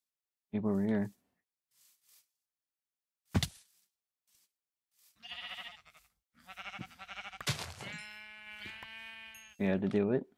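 Minecraft sheep bleat in short wavering calls, one near the start and another at the end, with scattered game clicks and a burst of in-game noise between them.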